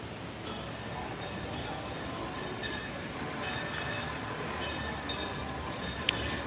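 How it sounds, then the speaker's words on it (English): At a theme park, the Silver Dollar City train rolls past as a steady rumbling clatter of wheels on rails, moderately distant, with faint squeals and a brief sharp click near the end. "there's the train."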